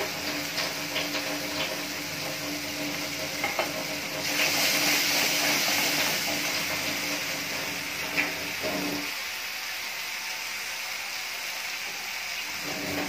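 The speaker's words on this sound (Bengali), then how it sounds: "এবার আমি দিয়ে দেবো বেটে রাখা সরষে পোস্ত।" Ground mustard and poppy seed paste added to masala frying in a pan for a dhaba-style katla fish curry, giving a steady loud hiss that swells briefly and then drops to a quieter sizzle.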